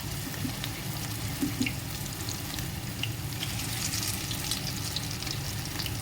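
Chicken 65 pieces fry slowly in hot oil, giving a steady, even sizzle with a soft crackle that holds without a break and with no voices.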